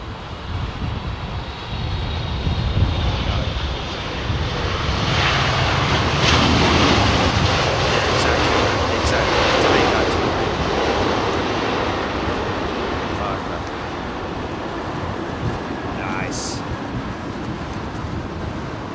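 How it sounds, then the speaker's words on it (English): A Qatar Airways freighter jet arriving at London Heathrow in windy conditions, its broad engine roar steady and fairly loud for most of the stretch, mixed with strong gusting wind noise and no voices. "No, this is the Qatar freighter now."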